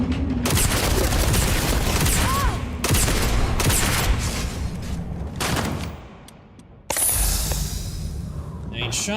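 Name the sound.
gunshots in video game Starfield Shattered Space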